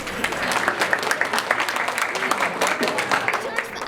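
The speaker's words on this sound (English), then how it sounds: "So have a loud round of applause for Qudsiya Zulfikar." An audience in a hall applauds a student speaker at an Independence Day speech event, a dense, steady wash of many hands clapping close by for the whole stretch.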